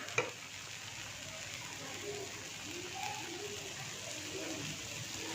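Ragi dosa sizzles in oil on a hot pan, a soft, even, continuous crackle at low level with one brief tap near the start and no talking.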